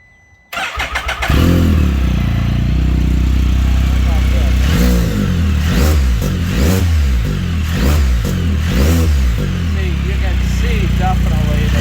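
A Can-Am Spyder with a 1330 engine and a PedalBox throttle accessory cranks over, catches and settles into a loud, close idle, then is blipped through a series of sharp revs rising and falling.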